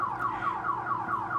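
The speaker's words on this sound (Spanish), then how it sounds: "Ay, hay una alarma de carro" Car alarm going off outdoors, a repeating warbling electronic tone cycling in steady sweeps about every quarter second, moderately loud and somewhat distant, heard alone without speech.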